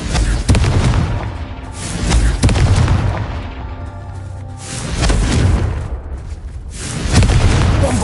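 Confringo fire spells explode in Hogwarts Legacy, a series of heavy booming blasts about every two to three seconds, loud and close, with rumbling tails between them.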